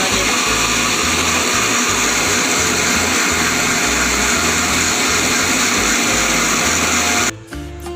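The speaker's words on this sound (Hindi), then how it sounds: "और ये दूध ब्लेंडर भी चला देना।" A milk blender whirs steadily at full speed, frothing lukewarm milk for homemade cappuccino, a loud continuous motor drone that cuts off abruptly near the end.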